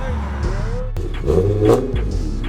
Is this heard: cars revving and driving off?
yes